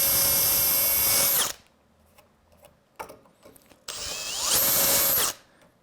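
A power drill fitted with a number 7 bit whirs through polycarbonate in two close, loud bursts of about a second and a half each, with faint handling clicks in the gap between them.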